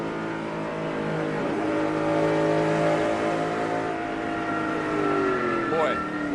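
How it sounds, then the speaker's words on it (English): Michael Waltrip's NASCAR stock car spins off turn 4 at the 2009 Southern 500, a loud sustained roar of racing engines with sweeping pitch changes as cars pass, while commentators talk over it. "And here's a single car spin off turn 4 by Michael Waltrip"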